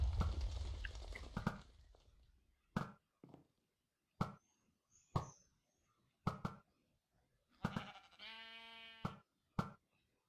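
A sheep in Minecraft bleats once in a buzzy, wavering tone near the end, among sharp, evenly spaced game clicks and thumps in an otherwise quiet scene.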